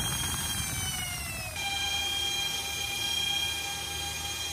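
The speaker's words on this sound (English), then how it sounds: "it's hot outside and miners are at max loud currently." Bitcoin miners running at full load inside a soundproofing enclosure, a constant fan roar with high whining tones that drop in pitch partway through, steady and moderately faint.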